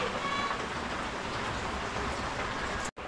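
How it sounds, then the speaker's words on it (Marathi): Heavy rain falls outside as a dense, even hiss that goes on steadily and drops out abruptly just before the end. "पाऊस पण जास्त आहे ना, मस्त पाऊस खूप आहे मित्रांनो बाहेर,"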